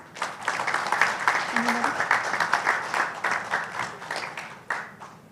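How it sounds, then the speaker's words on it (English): Audience applause during a memento presentation at a live special session, many hands clapping steadily and fairly close for several seconds, with distinct individual claps standing out. "A big round of applause."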